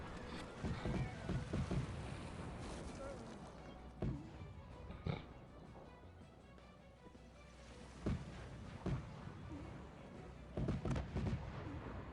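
Artillery fire from a battle in the strategy game Cossacks 3, during a Raid on the Medway mission: several heavy cannon booms go off at intervals over a steady din of combat noise, with no voices.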